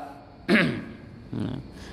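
Throat clearing from a congregant during a religious lecture on prayer recitation, two short rasping bursts about a second apart, close and moderately loud against a quiet room.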